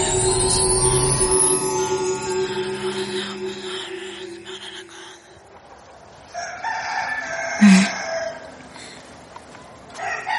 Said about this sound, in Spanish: Desperté con el cantar de los gallos.